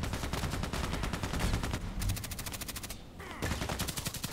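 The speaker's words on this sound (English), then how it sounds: "actually it sounds like if they would be shooting from there" Rapid bursts of gunfire in the HK417 sniper game ADXsniper, sustained automatic volleys rattling from a distance with brief pauses between strings of shots.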